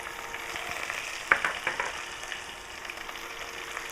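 Curry leaves and screw pine fry in a pan of oil for a Sri Lankan lentil dahl curry, making a steady bright sizzle with a few sharp pops and crackles clustered near the middle, with no talk.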